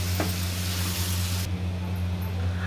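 Masala spices for paneer bhurji frying in oil make a dense, hissing sizzle that cuts off abruptly halfway as a lid goes on, leaving a low steady hum.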